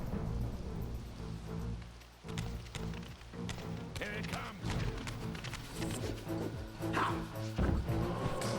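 In Soul Reaver 2 Remastered, a dog in the game barks repeatedly and whimpers. The yips and barks come close and fairly loud over a busy, layered game soundscape.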